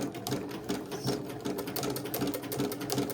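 A sewing machine stitching a section of a crazy quilt, running steadily with a fast mechanical chatter throughout, close and fairly loud, with no pauses.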